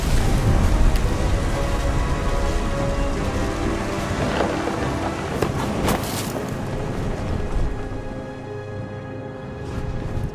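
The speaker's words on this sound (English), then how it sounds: "The thunder sounded much too close and full of angry power" Heavy rain and rolling thunder in the video game What Remains of Edith Finch, a steady loud downpour with a low rumble swelling through the middle, continuous and without voices.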